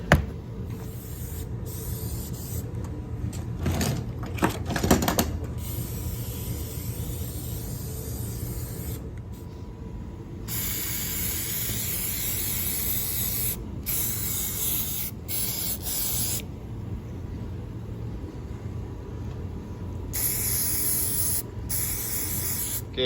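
Aerosol spray painting of bandsaw parts with Kubota Dark Gray paint: a steady, close hiss running almost continuously, broken by short gaps where the nozzle is released, with faint handling clatter early on.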